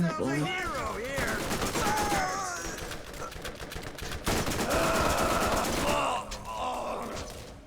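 Gunfire rattles in the Borderlands video game, with rapid bursts and volleys of shots interspersed with voices talking and shouting over the action.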